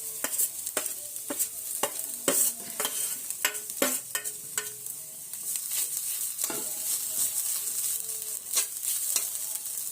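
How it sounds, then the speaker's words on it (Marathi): Grated coconut is stirred in a pan for a sweet modak filling, with the spoon scraping and tapping at irregular intervals over a soft, steady sizzle, close and without speech. "आता आपल्याला हे खोबरं घालून घ्यायचं आहे"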